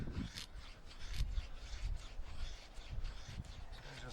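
Mora Kansbol knife carving feather sticks from wood, heard as steady close rasping scrapes that repeat in short strokes, fairly quiet with no talk.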